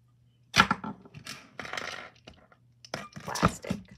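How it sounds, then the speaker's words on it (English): Small plastic beads on a thrift-store jewelry piece clatter in several quick bursts of light clicking and rattling, close to the mic, with brief pauses between handlings. "Plastic beads. They sound plastic."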